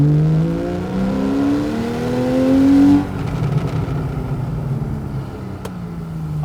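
A Porsche 911 991.1 Carrera S engine revs hard under full throttle, its rising pitch climbing through a gear before a shift, then pulling again with a steady, loud drone from inside the car.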